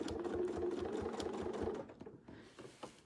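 A sewing machine stitches quilt pieces across a seam boundary in a quick, even run of mechanical clatter, then slows and stops. The sound is close and fairly quiet, with no talking.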